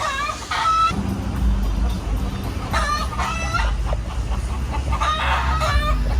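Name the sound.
roosters clucking and crowing in trees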